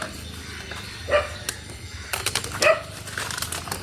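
A dog barks a few times at moderate distance, short sharp yelps spread over a few seconds against faint background noise and clatter.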